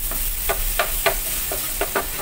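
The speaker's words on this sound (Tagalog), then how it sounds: "haluhaluin ko lang para lumabas yung aroma sa ating garlic" Garlic sautéing in butter in a pan, a constant sizzle under a series of about eight sharp spatula scrapes as it is stirred, close and clear with no talking.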